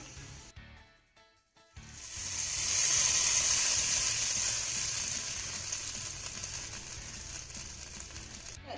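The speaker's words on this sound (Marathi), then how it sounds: "आता ही कडकडीत फोडणी आपल्याला चटणीवर घालायची आहे" Hot cumin seed tempering poured from a pan onto a fasting chutney, a sudden loud hissing sizzle that swells after a brief quiet moment, then slowly fades to a steady crackle.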